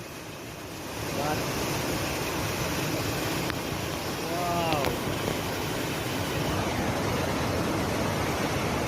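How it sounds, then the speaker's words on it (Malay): Continuous roaring rush of falling water, loud and broadband, with wind buffeting and a few faint high chirps. "Dapat air terjun lagi."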